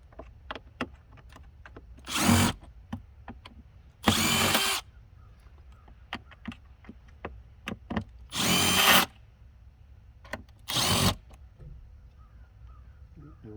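A power screwdriver backs out screws on the air filter housing of a 2015 Chevy Malibu, four loud, close whirring bursts of a second or so each, separated by small clicks and handling taps.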